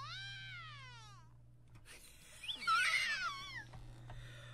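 A cat meows with a long, wavering, drawn-out call, then a second rising and falling yowl follows after a short pause, heard in the video game Postal 4 over a steady low hum.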